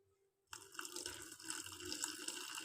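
Milk pours into a pot for traditional sweet yogurt (mishti doi), starting abruptly after a brief silence as a steady, fairly close liquid stream splashing, with no voices.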